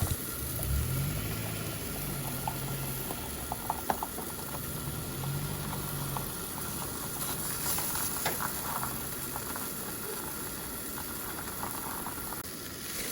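Scooped-out potato insides fry in a pan during beach car camping, giving a steady, close sizzle and hiss throughout with scattered faint pops and crackles.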